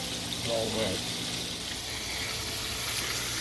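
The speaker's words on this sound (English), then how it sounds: "you want to fry it like mine, do it about 3 to 4 minutes at the longest" Fish frying in hot oil, a dense continuous sizzle and bubbling hiss that stays steady and close throughout, with a voice mixed faintly in.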